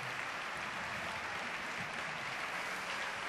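Football fans in a stadium at an RC Huelva versus Algeciras CF match applaud a banner, a steady wash of distant clapping from the stands with no break.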